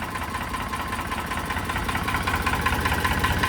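A Sonalika 35 tractor engine idles with a steady, throbbing low rumble and a faint knocking beat, running continuously and close by with no talking.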